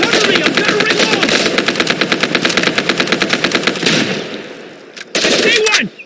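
Rapid automatic gunfire rattles loudly in the video game Operation: Harsh Doorstop, sustained bursts for several seconds, a brief pause, then another close burst, with shouted voices mixed in.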